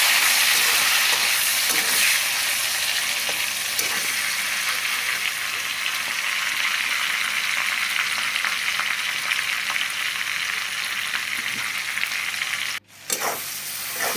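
A steady, loud frying hiss from spices crackling in hot oil in a wok while dal is being cooked, running continuously for many seconds with a brief dropout near the end.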